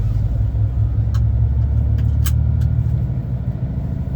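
A Scania R450 truck engine rumbles steadily and loudly from inside the cab as it pulls away from services, with a few faint clicks above the low drone.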